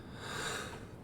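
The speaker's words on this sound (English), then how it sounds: "Sorry for the cough." A single short, muffled cough close to the microphone, heard alone with no speech around it.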